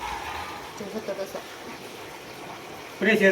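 Cold running water flows with a steady, low hiss, a few soft splashes rising now and then, until a voice speaks over it at the end.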